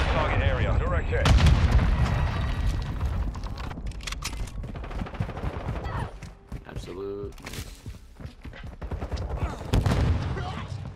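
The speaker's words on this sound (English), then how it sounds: "Missile ready for launch. Trojan 62, cruise missile away." A cruise missile strike lands in a Call of Duty MW2 Hardpoint match, heavy blasts and crackling gunfire under game radio voices and in-game chatter.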